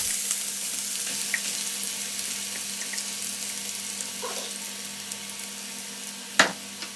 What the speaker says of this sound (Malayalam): അതൊന്ന് നല്ല ബ്രൗൺ കളറാകുമ്പോൾ അതിനകത്തേക്ക് നമ്മൾ ഈ അരപ്പ് ഇടുക.